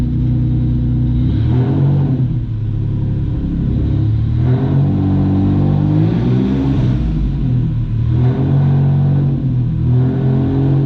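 A 1994 Dodge Stealth with a 3.0L V6 and automatic transmission runs close by, its steady idle rising into several revs and falling back in a smooth, continuous rumble with no talk.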